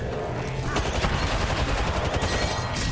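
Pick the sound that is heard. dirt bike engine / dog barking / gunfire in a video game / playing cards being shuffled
gunfire in a video game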